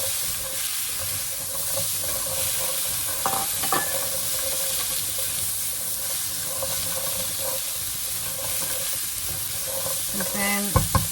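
Onions cook in a dry pan with no oil for a chutney, giving a continuous hissing sizzle. Occasional stirring scrapes are heard, and a few clinks come at the end.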